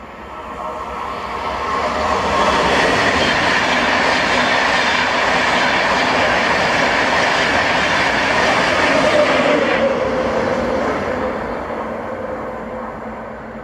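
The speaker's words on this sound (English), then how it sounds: "this was 1E12, the 1119 London North Eastern Railway service to London King's Cross from Edinburgh" An LNER service from Edinburgh to London King's Cross passes at Dunbar, swelling into a loud, sustained rumble of rolling wheels and rail noise that holds for several seconds before easing away.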